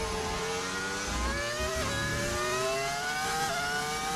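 A Formula 1 race car engine in the F1 25 video game revs with a loud, high-pitched whine. The pitch climbs steadily and drops briefly at two gear changes.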